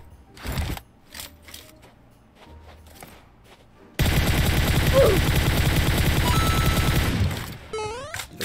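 Automatic gunfire in PUBG Mobile during a solo-versus-squad match: a few separate shots first, then a loud, sustained rapid burst lasting about three seconds, followed by quieter mechanical clicks and tones.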